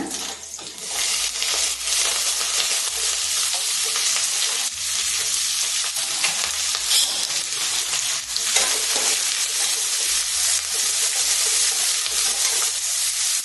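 Chopped onion and green chili frying in oil with urad dal and cumin for a raw banana stir-fry, a loud, continuous close sizzle with occasional stirring scrapes and no talking.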